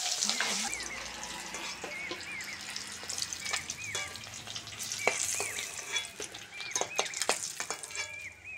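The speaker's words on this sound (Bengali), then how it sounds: "তেল গরম হয়ে গেছে, তেলের মধ্যে ডিম সিদ্ধটা দিয়ে ভেজে নেব।" Peeled boiled eggs frying in hot oil with a little salt and turmeric, a steady close sizzle with bubbling crackles, spoon scrapes and stirring clatter throughout.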